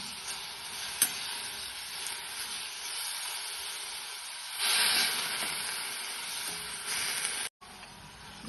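Shepu (dill) bhaji cooks in a pan with a soft, steady sizzle and hiss, swelling briefly louder midway with a sharp click near the end, and no talking.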